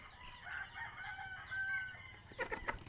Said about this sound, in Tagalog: maingay kasi may mga manok sa paligid.